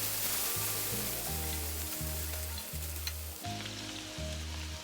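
Golden brown onions frying in a pan with ginger garlic paste for a shaljum dish, giving a steady, close sizzle that runs on with no voices.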